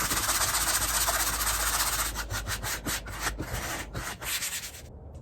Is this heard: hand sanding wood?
yes